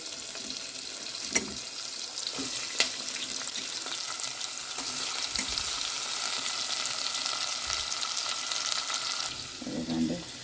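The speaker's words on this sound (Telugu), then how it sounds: "కొత్తిమీర, మెంతి, కరివేపాకు, వెజిటేబుల్స్ అన్నీ మగ్గాలి." Drumsticks and vegetables with coriander, fenugreek and curry leaves cook in a pan, giving a soft, continuous sizzle with a few light clinks and stirring sounds, fairly faint and with no talking.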